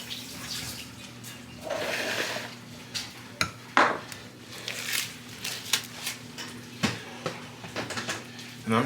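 A metal restaurant pan gets shifted aside in an outdoor smoker setup beside a Weber Smokey Mountain, giving a few scattered clanks and scrapes over a low steady hum, with softer handling knocks afterward.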